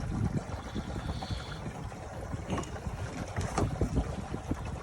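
Water flushing and draining from an RV sewer tank through an elbow fitting, a steady rushing wash with gurgles and splashy bursts that stays close and continuous, with no talk.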